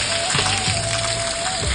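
Steady rain pours down outside a shop, a dense continuous hiss with pattering drops, no voices over it.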